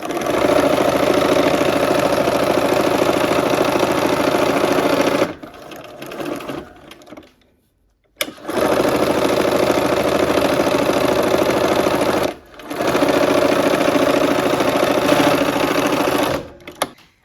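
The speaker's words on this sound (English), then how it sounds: "We've sewn on both sides of that line" A sewing machine stitches a seam on a quilt block, running in long steady bursts of rapid whirring, with short pauses between runs.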